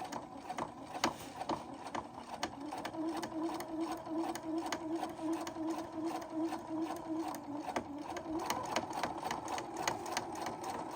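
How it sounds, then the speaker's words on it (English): A sewing machine stitches a pant hem in a steady, fast mechanical whir with regular rhythmic ticking that runs continuously throughout, close and fairly quiet, with no talking. "if you turn off your sewing machine or start it again, you always need to check your stitch length and the position of your needle"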